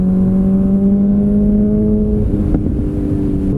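A car fitted with a loud SC Project aftermarket exhaust holds a steady, droning engine note close by, with the pitch sagging slightly near the end; no voices.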